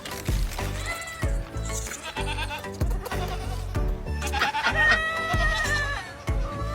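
Goats bleat repeatedly in the goat yard of an animal sanctuary, several calls rising over a busy, dense background with overlapping farm noise.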